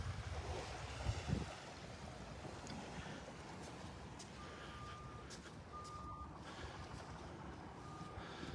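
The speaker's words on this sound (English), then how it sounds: "I can hear the machinery down on Vanderbilt Beach putting the new sand out." Machinery spreading new sand on Vanderbilt Beach, heard from a distance as a faint truck rumble under steady surf and wind, with intermittent reversing beeps in the latter half.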